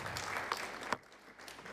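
Audience applause at a local economic development innovation showcase: a dense, steady burst of many hands clapping at moderate loudness, fading quickly after about a second into quieter room noise.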